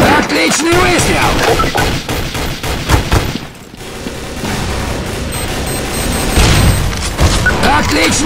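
Rapid gunfire and bursts in Counter-Strike Source, loud and dense throughout, with booming shots and an announcer-style voice mixed into the game sounds.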